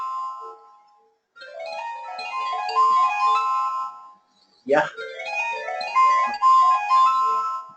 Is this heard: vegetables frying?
no